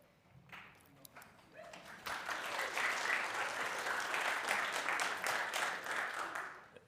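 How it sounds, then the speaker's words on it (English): Sustained audience applause fills a panel discussion hall in London, swelling after a quieter opening moment and holding steady as a dense wash of clapping from a crowd. "Thank you for the applause at the start"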